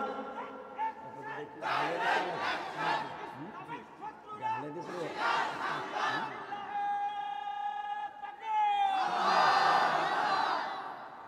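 A mosque or sermon crowd, led by a preacher, roars a takbir in loud collective shouts, the voices swelling together in several bursts over a sustained vocal drone.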